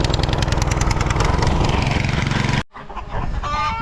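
A loud drone engine drones steadily with clucking hens mixed in; it cuts out abruptly, then alarmed chickens cluck and squawk over a low hum.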